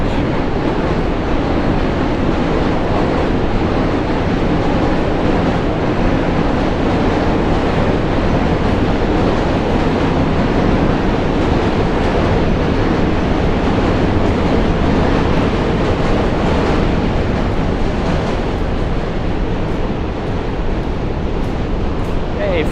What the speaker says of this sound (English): You could hear the subway going over the Manhattan Bridge.